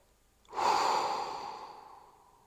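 A single long exhale through relaxed breath during a back-stretching exercise, starting sharply then tapering off slowly over about two seconds, close and soft with no talk.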